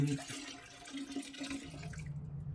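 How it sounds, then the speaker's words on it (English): Dirty mop water from a robot mop's tank poured into a toilet, a close, steady splashing gush that runs for about two seconds and then cuts off, with no talking. "we just unlatch it like that, and then we're just gonna pour it down the toilet"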